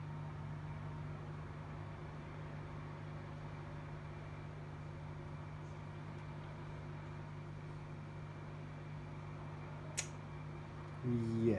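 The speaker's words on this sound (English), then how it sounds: "the fans are spinning" Cooling fans on an Rx 470 graphics card spin with a steady low hum and faint broadband whir throughout, with a brief click near the end.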